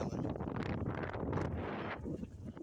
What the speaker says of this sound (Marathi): बघा वारा पण भरपूर आहे.